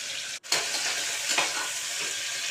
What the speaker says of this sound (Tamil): இப்போ இது நல்லா ப்ரௌனிஷ் ஆகிற வரைக்கும் நல்லா வதக்கிக்கலாம்.